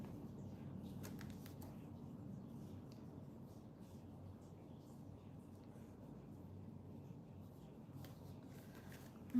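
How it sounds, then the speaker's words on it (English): A deck of tarot cards is shuffled quietly during a live reading, giving faint, soft riffling and light flicks over a low background hum for several seconds. "I'm gonna shuffle this."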